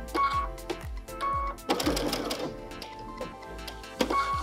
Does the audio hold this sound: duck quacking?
no